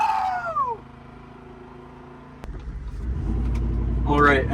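A worn second-generation Dodge Ram 1500 pickup drives off and accelerates, its engine a low rumble rising in pitch, with a squeal near the start and another near the end, and voices talking over it.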